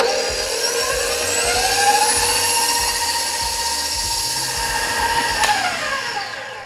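An electric mixer whirs steadily as it beats devil's food cake batter in a bowl, a loud continuous motor whine with shifting pitch and no talking.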